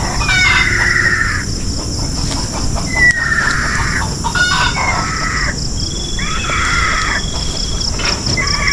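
A rooster crows several times, with chickens clucking in the background and steady outdoor ambience throughout.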